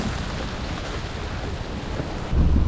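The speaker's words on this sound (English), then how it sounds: "I don't know if it's gonna stop raining tonight." Heavy rain pours down during a storm as a continuous dense hiss and roar, and a burst of wind buffets the microphone near the end.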